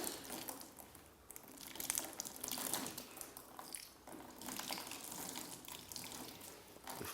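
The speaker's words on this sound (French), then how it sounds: "Le lavage doit durer minimum 30 secondes." Hands being washed under a running tap, a steady hiss of flowing water with soft splashing and rubbing that swells and dips over several seconds, fairly quiet and without speech.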